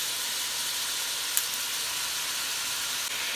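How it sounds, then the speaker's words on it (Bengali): Tomato, onion, ginger, garlic, cinnamon, cardamom and fenugreek sauté in a pan for butter chicken, giving a soft, steady hissing sizzle throughout with one faint tick partway through. "এগুলোকে আমি একটু সটে করে ব্লেন্ড করে নিব"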